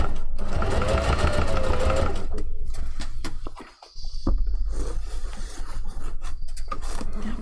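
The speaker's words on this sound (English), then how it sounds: "Now we're going to come in slightly a wee bit to the seam allowance and do another round of stitching." A sewing machine stitches a seam on a fursuit kitsune fox tail, running in fast, steady bursts with a brief pause midway, loud and close.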